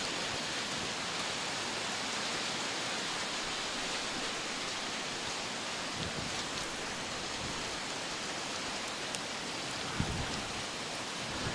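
Steady rain falling, a soft continuous hiss that stays even and fairly faint from start to finish, with no talking over it.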